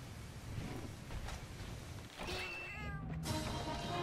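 A cartoonish cat companion in Monster Hunter Freedom Unite meows a few times, its short, bright game-sound meows coming quickly together near the end over quiet in-game ambience.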